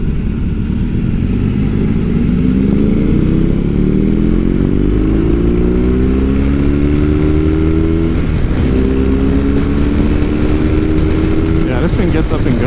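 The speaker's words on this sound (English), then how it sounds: "this thing gets up and goes, man, for a big bike" A big BMW motorcycle on a demo ride near Austin, Texas, with a steady loud engine drone that climbs in pitch as it accelerates through the gears, over constant wind rush, with a rider talking over it.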